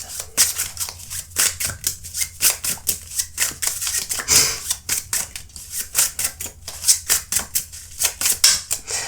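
Tarot cards handled and drawn during a pick-a-card reading, a long run of quick crisp card snaps and riffles in a rapid uneven rhythm, close and fairly loud, with no talking.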